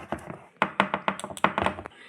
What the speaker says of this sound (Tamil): நல்லா அப்படி டேப் பண்ணிக்கோங்க.